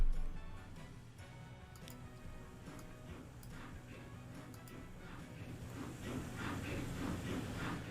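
Train running in Transport Fever 2, a low steady rolling rumble with rhythmic ticking clicks of wheels over rail joints, fairly faint and continuous.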